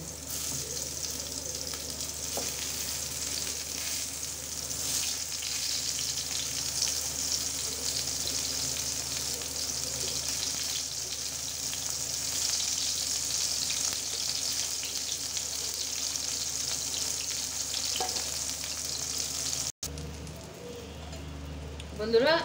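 Eggplant slices fry in hot oil in a pan with a steady, loud sizzle that runs throughout, joined by occasional stirring and construction noise from outside.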